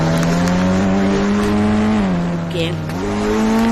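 Diesel taxi engine driven in a video game, a loud steady drone rising and dipping in pitch as it revs and eases off, with a brief voice over it.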